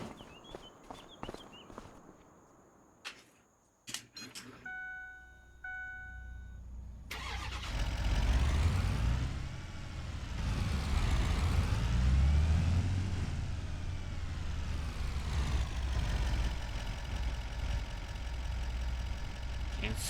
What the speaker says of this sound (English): Hey, look, let's just go ahead and park the car in here.